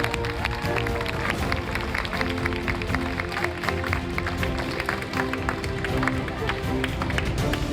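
Audience applause welcoming a guest at a walkathon event in Jamnagar, with dense sustained clapping from a crowd running the whole time alongside some talk.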